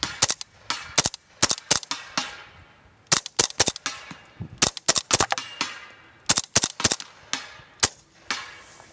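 A suppressed Henry Homesteader 9mm carbine fired repeatedly: many sharp, close reports in quick irregular strings and pairs, each with a brief metallic clack of the action, and short pauses between groups.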